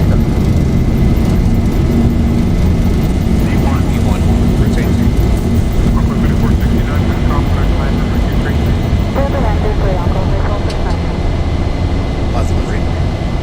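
A Boeing 737-800 rolls down the runway for takeoff in the X-Plane 11 flight simulator, its jet engines producing a loud, constant roar throughout while someone talks over it.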